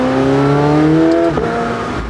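A McLaren 720S supercar's engine revs hard, the tone climbing in a steady harmonic sweep before the pitch drops sharply around a gear change, loud and close with no talk.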